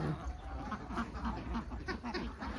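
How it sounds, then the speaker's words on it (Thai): Young laying ducks of Khaki Campbell type in a farm pen give repeated quacks, moderately near and steady over soft background noise. "คอกนี้จะเป็นคอกเป็ดสาวนะคะ เป็ดสาวที่กำลังหัดไข่"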